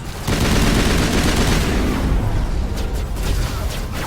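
Assault rifle gunfire in the video game Mass Effect, a dense continuous burst of rapid shots, loud and close, filling the whole stretch without a break.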